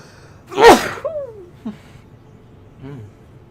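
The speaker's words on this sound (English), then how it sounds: "we got a sneeze coming" A single loud, sharp sneeze close up, followed by a couple of small breathy whimpers or sighs.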